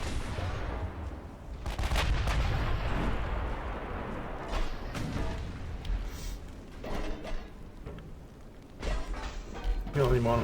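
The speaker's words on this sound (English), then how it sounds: "Yep, the 3-inch guns are now joining in." 3-inch guns on a US super battleship in the naval game Ultimate Admiral: Dreadnoughts fire in repeated heavy booming bursts, layered and rumbling throughout, with a voice mixed in.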